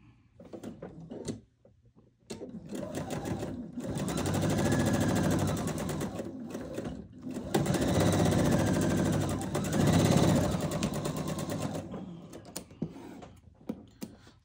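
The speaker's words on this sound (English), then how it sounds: "And we're just going to sew 1/4 inch seam." A sewing machine stitches a quarter-inch quilt seam, running in two sustained bursts of steady mechanical chatter separated by a short pause, fairly close and with no talking.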